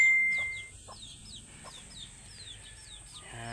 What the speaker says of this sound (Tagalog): Mga manok natin, hindi pa tayo makakaparami sa ngayon ng manok.